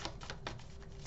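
Tarot cards are shuffled in a quick run of soft papery clicks and riffles, several close taps over roughly a second, with no talking.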